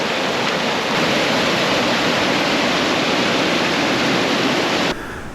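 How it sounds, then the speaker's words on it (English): Loud, steady rushing water fills the scene, a continuous close splashing roar of a small waterfall on Cape York's Old Telegraph Track that drops in level near the end. "you get your own little waterfall"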